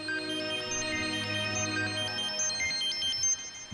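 A phone rings with an incoming call, playing a bright, repeating electronic melody of chiming tones over a low background hum, loud and steady for several seconds with no voices.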